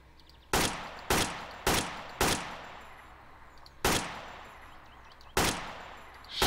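AK-47 rifle fire at a shooting range in Garry's Mod: six sharp single shots, the first four in quick succession and the last two spaced out, each followed by a ringing decay, loud and close with no talking.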